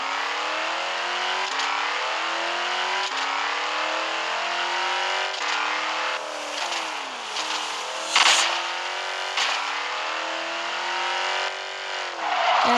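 Race car engines in a racing video game rev and shift up repeatedly, rising pitch sweeps broken by gear changes, loud and close, with a brief screech partway through and no talking.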